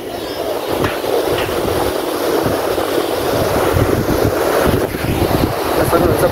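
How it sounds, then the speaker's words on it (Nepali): A swollen river rushes below a bridge, a continuous broad roar of churning, overflowing water with wind buffeting the microphone, steady and loud throughout. "खोला पुरा छल्किरहेको छ"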